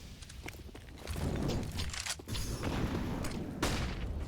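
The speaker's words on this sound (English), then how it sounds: "Incendiaries and nades back and forth." Incendiaries and grenades go off back and forth in a Counter-Strike match on the Ancient map, heard as faint, muffled blasts and rumbling mixed with footsteps and clicky mechanical noise.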